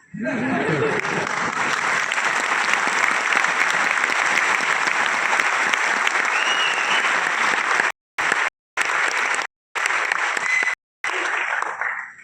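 An audience claps continuously and loudly for several seconds, with a few chuckles mixed in, before the applause cuts out in short gaps near the end.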